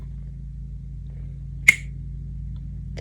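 A single crisp finger snap in a first-grade math lesson, one short sharp click against a quiet hum, followed by a faint trace of another sound near the end.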